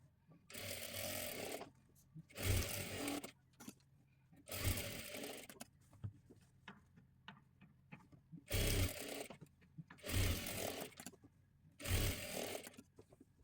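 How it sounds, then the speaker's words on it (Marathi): Electric sewing machine stitching a size 38 princess-cut blouse, running in six loud bursts of rapid stitching separated by short pauses, close up with no talking. "असं मार्किंग करून शिलाई देऊन घेते दोन्ही सुद्धा बाजूंना"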